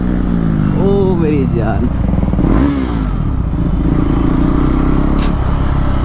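KTM Duke 390 motorcycle fitted with an SC Project CR-T exhaust, close and loud, its engine running throughout with a rising rev mid-clip while someone talks over it.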